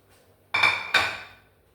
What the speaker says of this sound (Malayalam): ഈ പാത്രം ഒന്ന് തുടയ്ക്കട്ടെ.